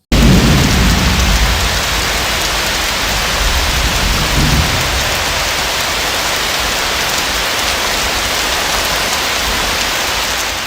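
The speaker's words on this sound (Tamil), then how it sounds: "சென்னையில் இன்று காலை முதல் விட்டுவிட்டு கனமழை கொட்டி தீர்த்திருக்கிறது." Heavy rain pours down in Chennai as a steady, loud downpour, with a low rumble of thunder near the start, then continuous rain noise for the rest.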